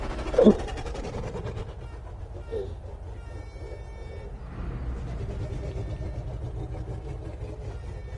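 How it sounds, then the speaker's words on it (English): A train approaches in GTA 5, its low rolling rumble and rail clatter building steadily under game engine noise, with a brief sharp sound near the start. "Oh, we got a train coming."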